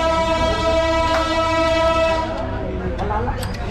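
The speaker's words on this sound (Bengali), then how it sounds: "এই মুহূর্তে চিলাহাটি রেল স্টেশন থেকে ছেড়ে যাচ্ছে সদ্য উদ্বোধনকৃত ব্র্যান্ড নিউ চাইনিজ কোচ" A brand-new Chinese-built passenger coach train, the Chilahati Express, pulls out of Chilahati railway station, its steady loud rumble joined by sustained horn tones and a few brief higher whistles.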